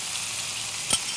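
Chicken frying in a pan with tomato sauce for a chicken garlic pasta, a soft, even sizzle with a brief stir or clink near the end.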